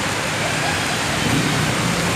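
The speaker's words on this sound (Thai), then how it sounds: "ฝนตกวันนี้ครับ" Steady heavy rain pours down as a dense, continuous hiss, loud and close, with no breaks.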